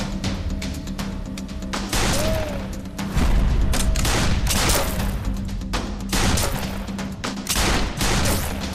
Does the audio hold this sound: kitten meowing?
no